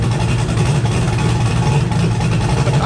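A 5.3 LS V8 engine running steadily in a shop, a loud, dense low rumble with constant texture and no revving, close to the listener.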